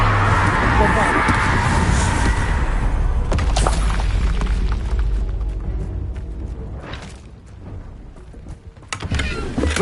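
A Bombarda spell explodes in the Hogwarts Legacy video game as a loud, booming burst with rumbling low end, layered with ongoing game effects and a talking voice.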